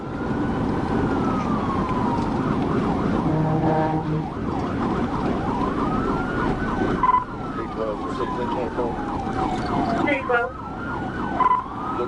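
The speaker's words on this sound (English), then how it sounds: "closed in on the vehicle with lights and sirens activated" A police car's siren wails during a high-speed highway pursuit, sweeping up and down and switching to rapid yelping bursts, loud and close over engine and road noise.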